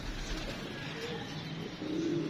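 Pigeons coo softly a few times, low and close, over a steady broadband background hiss.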